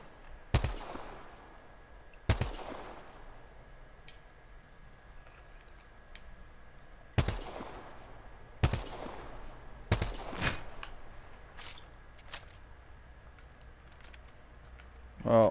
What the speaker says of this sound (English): Yeah, they're shooting at me.